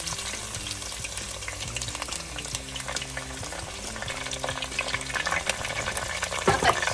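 Ginger, garlic and green chillies fry together in a pan for a fish curry, giving a steady, close, dense sizzle that stays loud and even throughout with no voices.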